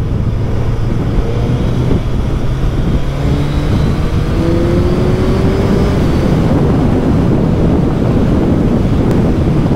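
A motorcycle engine drones and rises in pitch as it revs and accelerates while riding, heavily buried under loud, constant wind rush across the microphone.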